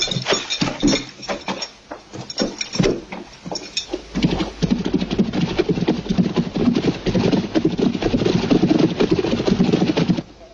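Horses are led away on foot, their hooves clip-clopping in a loose, uneven rhythm that thickens into a dense, continuous patter of several animals close by, with no talk.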